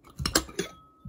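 Asian rice bowls being set out on a surface, a few quick clinks and knocks of ceramic close by, followed by a faint ringing tone.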